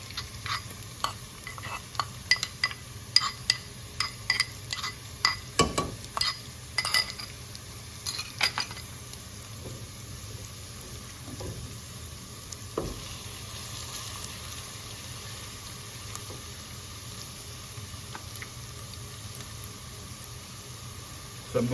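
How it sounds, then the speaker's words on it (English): Ginger and garlic brown in two pots, a soft steady sizzle under scattered metallic clinks and stirring scrapes from a utensil, which grow sparse after the first few seconds. "this is the first pot, the ginger garlic is browning, and here is the second pot where we have the ginger garlic browning again"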